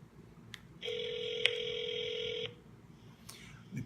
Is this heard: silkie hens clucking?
no